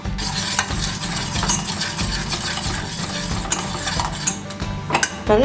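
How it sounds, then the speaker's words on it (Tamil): Jaggery syrup simmering in a pot on a stove, giving a steady bubbling sizzle with occasional metal clinks of a spoon stirring against the pot. "ஒரு கொதி வந்துருச்சு"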